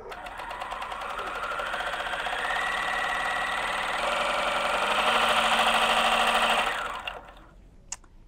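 A 4-thread overlock serger sews a seam with a steady, rapid mechanical whirring and chatter for about seven seconds, then slows and stops, followed by a small click.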